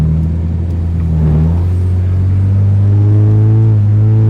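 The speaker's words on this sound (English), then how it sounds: "It's the first drive. It's already rubbing like crazy." Rebuilt BMW car on its first drive with tires rubbing, a steady low engine and road rumble throughout, rising slightly in pitch toward the end with harmonic whine, no talk.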